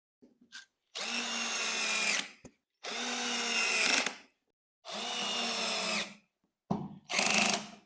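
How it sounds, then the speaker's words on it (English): A cordless power drill drives three screws into an IKEA PAX wardrobe sliding door: steady whirring bursts about a second long, each ending as the screw seats, close by with short gaps between them and no speech. "grab 3 of these, 3 screws, and just screw them"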